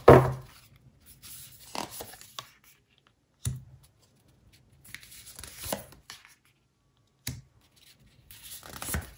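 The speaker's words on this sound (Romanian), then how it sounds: "adăugăm niște cărți de tarot" Tarot cards laid out one at a time on a table: soft, close card slaps and brushing scrapes in a quiet room, with separate irregular taps and pauses between them.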